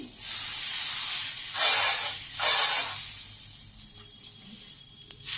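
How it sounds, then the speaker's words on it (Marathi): Butter sizzles on a hot tava while warming pav for pav bhaji, a loud broad hiss that swells in two or three surges and then fades toward a quieter crackle. "तर तवा गरम झाला आहे बटर आपण लावून घेऊ"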